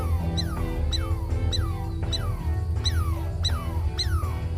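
Repeated sharp, high yelping alarm calls from a young female mongoose warning her clan of a cobra, about eight evenly spaced falling cries over a constant low rumble.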